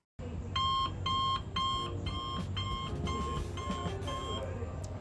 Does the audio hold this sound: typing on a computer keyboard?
no